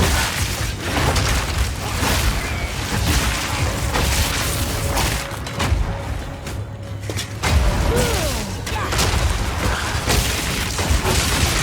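Repeated grenade blasts in Path of Exile 2, thrown by a Forsaken miner in a quarry, as dense booms and crashing thuds pile up over busy combat noise, with a short lull midway.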